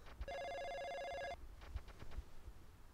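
A telephone rings once with a bright electronic bell tone in the Jinguji Saburo detective video game, loud and steady for about a second before cutting off, followed by faint clicks and quiet background.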